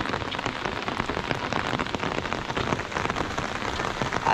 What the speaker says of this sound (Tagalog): talagang maulan yung panahon ngayon